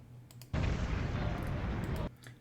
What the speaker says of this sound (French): Ici, on a vu une explosion.